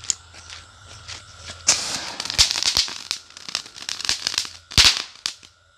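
A Diwali firecracker is set down, lit and goes off with a series of sharp crackling pops and bursts, some louder bangs standing out among rapid spitting crackles, after a quiet handling noise at the start.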